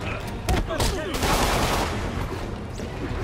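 Rapid gunfire bursts from the Marvel's Spider-Man video game crackle over a dense action soundscape, with sharp shots early on and a steady roar of combat continuing throughout; a voice can be heard in the mix.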